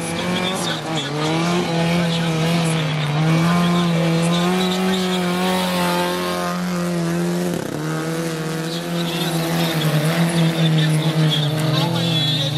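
An autocross race car drives flat out down a dirt track, its engine holding a loud, steady, high-pitched drone with a brief dip midway, while a commentator talks excitedly over it.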